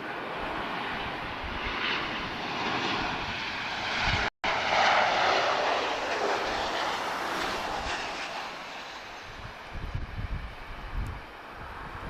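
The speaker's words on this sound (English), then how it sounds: "Tango Oscar 7648, arriving from Paris Orly. This is a 737-800." A Transavia France Boeing 737-800 jet arrives on landing at Lisbon Airport, a steady broad roar of engines that holds for most of the span with a brief dropout, then eases slightly toward the end.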